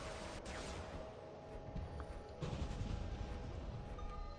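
Robot weapons firing in the mech game War Robots, a steady stream of muffled shots and impacts that grows heavier midway, continuous over several seconds without speech.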